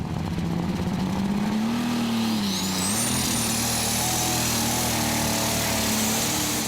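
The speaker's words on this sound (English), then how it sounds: "Like most of these tractors in the class, they're running on methanol, and this is a DAF 1260 engine with turbocharger set up on it" Pulling tractor in a 2.5-ton class at a tractor pulling event, running on methanol with a turbocharged DAF 1260 engine, roars continuously at high load, its pitch rising and dipping under a rising whistle.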